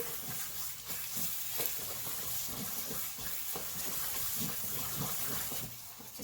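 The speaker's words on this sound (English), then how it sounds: "make sure you stir so it doesn't burn" Sticky rice mixture is stirred in a pot. A thick, wet churning and bubbling runs continuously with soft scraping strokes, quiet and close, and no voices are heard.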